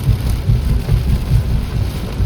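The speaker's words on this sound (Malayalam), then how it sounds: "പെയ്യാൻ തുടങ്ങി" Heavy rain pours steadily outdoors with a loud, dense rumbling wash and low rolling gusts, continuous and close.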